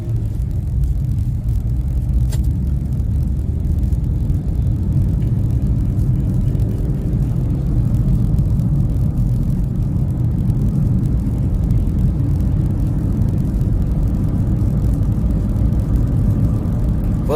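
Car driving during a driving lesson, a steady low engine and road rumble heard from inside the cabin, continuous and even throughout with no talking.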